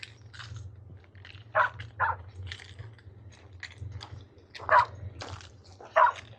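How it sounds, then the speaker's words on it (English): A dog barks somewhere off in a lemon orchard at dusk, a handful of short, sharp yaps spaced irregularly over a quiet outdoor background with a low steady rumble. "There's a barky dog somewhere in there."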